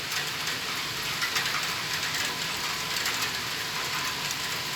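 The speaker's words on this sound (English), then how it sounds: "It's raining, huh?" Rain falling in Sweden makes a steady, dense hiss that holds evenly for the whole stretch, with no voices over it.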